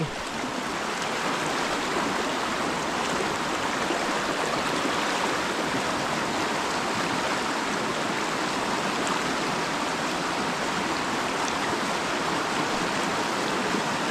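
A shallow stream flows at a river crossing on the way to a lanzones harvest area, giving a loud, steady broadband rush of water that stays even throughout with no talk.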